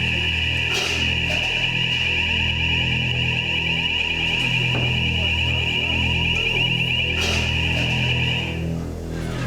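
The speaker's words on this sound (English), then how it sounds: "when the fire alarm goes off" A fire alarm sounds in a professional kitchen with a loud, steady electronic tone that holds unbroken for several seconds and then cuts off near the end.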